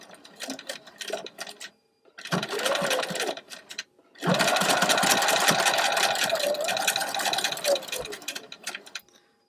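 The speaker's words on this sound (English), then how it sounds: "So I'm just going to sew." A sewing machine runs gathering stitches through fabric, several short stop-start bursts followed by one long, steady mechanical whirr, close and clear with a little handling noise between runs.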